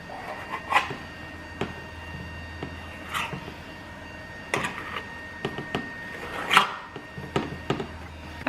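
A sharp knife cuts across homemade sheet pan pizza dough, making a series of soft, scattered scraping and rasping strokes at an uneven pace, close and fairly quiet.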